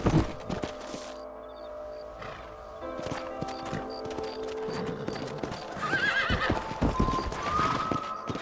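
Horse in the Red Dead Redemption video game, its hooves clip-clopping at a steady gallop while it neighs and whinnies several times, close and fairly loud over a continuous game backdrop.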